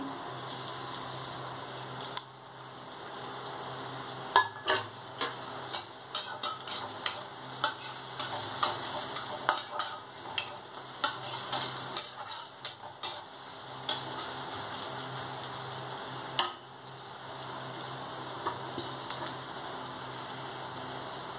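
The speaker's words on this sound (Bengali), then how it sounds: "দেখুন তেল আমার গরম হয়ে গেছে। এবার এখানে একটা মিডিয়াম সাইজের পেঁয়াজ আমি কুচিয়ে নিয়েছি, এই পেঁয়াজটা দিয়ে দিচ্ছি।" Chopped medium-sized onion hitting hot oil crackles and sizzles in a steady broadband hiss, with scattered sharp pops and stirring scrapes throughout, close and alone without talk.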